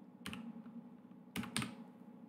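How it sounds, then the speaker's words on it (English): A computer keyboard gets a few quiet keystrokes, three sharp clicks spaced irregularly over a low steady background hum. "Let me just type it out then."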